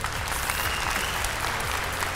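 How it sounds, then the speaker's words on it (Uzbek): A studio audience at a televised game show claps steadily and densely, a full, close round of applause with no pause throughout. "Olqishlab qo'yamiz."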